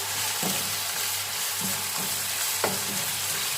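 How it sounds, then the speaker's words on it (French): Sauce goes into a pan of stir-fried noodles with lacquered pork. A loud, continuous, close-up frying hiss carries on throughout, with a few soft stirring scrapes spaced about a second apart. "Maintenant, j'ajoute ma sauce. Hop. On mélange."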